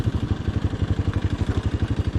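A modified motorcycle with a handmade silencer idles nearby, its engine beating in an even, rapid putter throughout with no talk.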